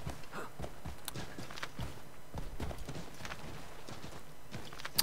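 Horse hoofbeats from riding in the video game Assassin's Creed 3, a steady clip-clop of hooves at a walking pace, fairly close and continuous, with light game ambience underneath and no voices.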